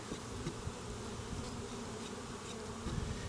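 Honeybees swarm around a top bar hive during installation, a steady near buzzing that hums on without pause and with no voices.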